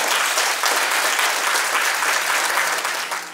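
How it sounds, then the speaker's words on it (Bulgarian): Loud, sustained applause from a crowd at a cake art awards ceremony, dense clapping throughout that begins to taper slightly at the end. "така че вашите аплодисменти за Ася."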